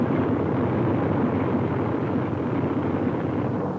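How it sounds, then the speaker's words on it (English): A large fleet of B-24 Liberator bombers, more than 175 aircraft, flying overhead in 1943 with a continuous, loud, broad engine roar that holds steady throughout. "More than 175 giant liberators streaking across the Mediterranean"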